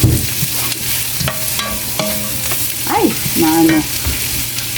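Tomato sautéed in a pan for green beans with shrimp, a continuous close sizzle broken by repeated stirring scrapes, with a voice briefly speaking partway through.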